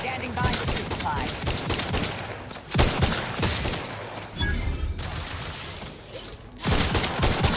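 Sustained automatic gunfire in The Outer Worlds 2 as Raptidons are shot down, dense rattling bursts in several loud waves with brief pauses, and faint speech mixed underneath.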